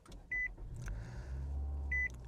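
A 2025 Nissan Altima 2.5 SV AWD starting at the push button with a conventional starter: two short electronic chimes bracket a low cranking rumble that settles into a steady, quiet engine idle inside the cabin.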